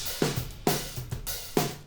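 Drum kit heard through overhead microphones, with a few separate loud, roomy hits spaced roughly half a second apart, each decaying quickly with a bright cymbal-tinged wash and no talking.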